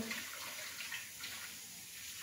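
Hot water is poured off a pot of boiled trotters, a steady, faint splashing gush of water that runs throughout. No one talks.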